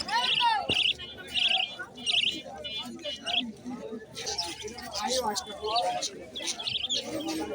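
Pigeons at a weekly pigeon market coo and flutter close by in repeated bursts, with a high chirp or two and busy crowd chatter running underneath.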